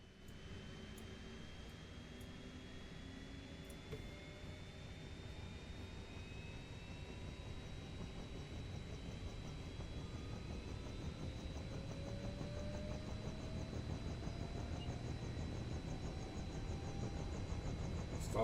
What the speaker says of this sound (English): Engine firing, rotor spinning.